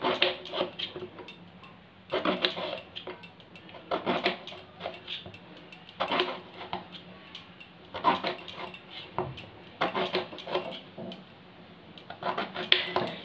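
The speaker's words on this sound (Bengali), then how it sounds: "দেখো আমি বেগুনগুলো কী করে কাটছি।" A kitchen knife slices through an eggplant into moderately thick rounds, giving soft repeated chopping taps and board knocks in an irregular rhythm, close and fairly quiet, with no talking.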